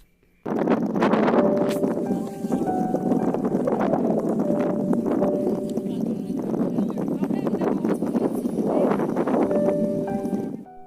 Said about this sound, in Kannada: ನೋಡಿ ನಾನು ಮೊದಲೇ ಹೇಳಿದಾಗ ಎಷ್ಟು ಗಾಳಿ ಇದೆ ಇಲ್ಲಿ